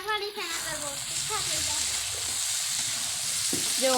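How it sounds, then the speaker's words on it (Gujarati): Hot oil sizzles and crackles loudly as tempering spices hit the pan for spiced rice, with a voice speaking briefly at the start and again near the end. "દીદી એ વઘાર કર્યો છે"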